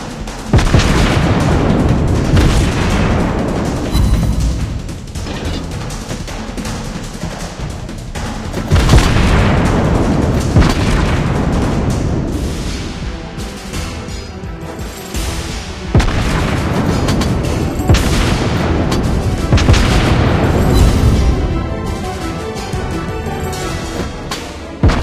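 Naval guns fire in World of Warships Blitz during a 1v1 battle, with heavy booming salvos roughly every several seconds, each one rolling out into a long, loud rumble.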